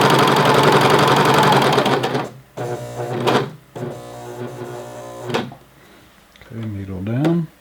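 A home sewing machine stitches an elastic waistband in short bursts of rapid mechanical whirring separated by pauses, close and fairly loud, with handling noises in the gaps.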